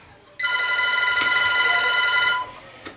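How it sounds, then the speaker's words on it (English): A telephone rings in a home kitchen with one sustained, bright electronic trill lasting about two seconds, loud and close, with quiet background before and after. "That's my phone."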